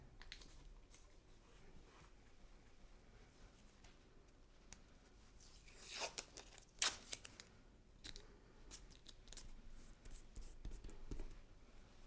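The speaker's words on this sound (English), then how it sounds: "I'm going to tape it down." Blue masking tape torn from the roll and pressed down to fix an encaustic wax painting panel onto waxed paper, a few sharp ripping bursts and soft crinkly taps over a quiet room, with no talking.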